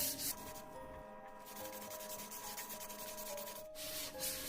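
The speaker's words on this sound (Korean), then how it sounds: "600방처럼 부드러운 사포로 바꿔서 한 번 더 문질러 주세요" Steady back-and-forth rubbing of fine 600-grit sandpaper on a wooden cutting board, a soft continuous scratchy hiss with a brief pause near the end, close and fairly quiet.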